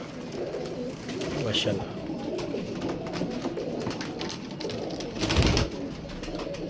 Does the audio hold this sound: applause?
no